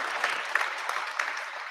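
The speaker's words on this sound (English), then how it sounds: "Good round of applause." A crowd in a gym at a varsity girls basketball game applauds steadily, a loud, dense wash of clapping throughout.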